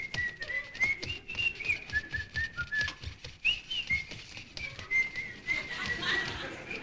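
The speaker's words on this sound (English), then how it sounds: "Don't whistle." Someone whistles a wandering tune close by, with faint rhythmic tapping or footsteps underneath.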